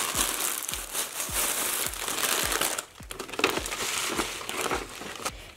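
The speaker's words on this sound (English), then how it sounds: "And then you're gonna put some of your crinkle paper in the bag." Crinkle paper rustles and crunches steadily as it is stuffed into a gift bag for a unicorn party favor, with close, continuous crinkling broken by short crisp rustles throughout.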